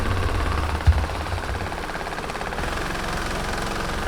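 A Vibro Shape slimming belt runs with a steady, loud motorized buzz and hum that keeps going without a break, close up, with a small knock partway through.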